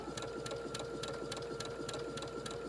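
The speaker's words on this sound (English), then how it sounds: "And then as I sew, I am actually going to stretch this fabric" A sewing machine stitches stretched knit fabric for a twisted headband, running in a fast, even rhythm of close mechanical pulses, about three or four stitches each second, over a steady motor whir.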